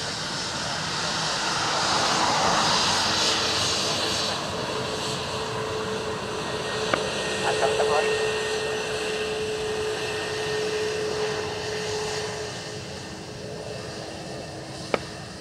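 An airplane's engines roar continuously at Dublin Airport during takeoff, a broad, loud rushing drone that swells and fades slowly, with a radio voice briefly audible over it.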